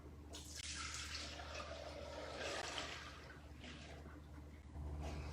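Lemon peels and limoncello liquor poured through a small strainer, a steady wet splashing and trickling with no talk.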